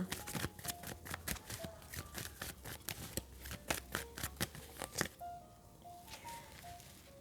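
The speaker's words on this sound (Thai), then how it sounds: "ขออนุญาตขอไพ่พลังงานหลักของคุณหนึ่งใบค่ะ" Tarot cards shuffled and drawn for a reading, a rapid run of close riffling flicks and slaps that thins out toward the end, quiet and without talking.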